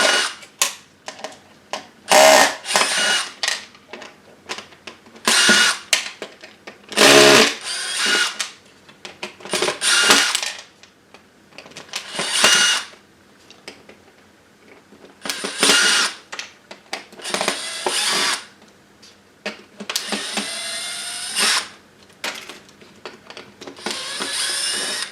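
A power screwdriver backs out screws from a Technics SX KN-5000 music keyboard synthesizer, whirring in repeated short bursts of varying length separated by pauses and light handling clatter, loud and close.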